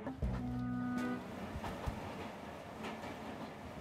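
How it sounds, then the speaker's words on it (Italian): A train in the Fireman Sam cartoon rumbles along its track, with a horn-like tone near the start, then a steady rolling clatter of wheels at moderate volume. "Sembra che Tenaglia stia guidando il treno, mamma!"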